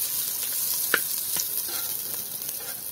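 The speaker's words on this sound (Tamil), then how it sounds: "எண்ணெய் கொதிச்சுட்டு நாங்கள் சின்ன வெங்காயத்தை போடுவோம்" Small onions frying in hot oil for a village-style Tamil upma make a steady, faint sizzle, with a couple of brief stirring clinks near the start.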